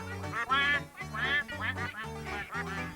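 A duck quacking in an animated children's story, a run of about six nasal, evenly spaced quacks in quick succession, clear and close.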